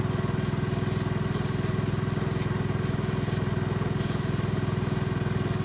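An old chisel plow frame spray painted John Deere green, a continuous loud hiss over a droning motor-like hum, with the spray pulsing in short bursts.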